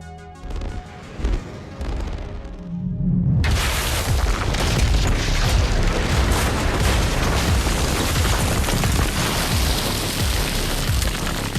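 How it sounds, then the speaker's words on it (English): An explosion in a space war movie starts with a few scattered low thumps, then a sudden massive blast bursts in and becomes a loud, sustained, crackling rumble of debris and fire that continues to the end. "an explosion hit before I could punch in the command"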